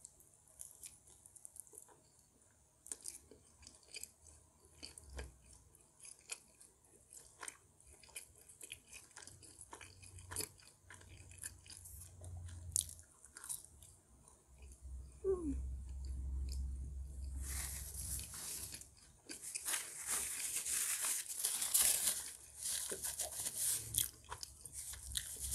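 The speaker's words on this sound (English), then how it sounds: "I'm tasting some of the baked beans." Close-miked chewing of baked beans, soft wet mouth sounds and small bites spread across a long quiet stretch, growing fuller and louder toward the end.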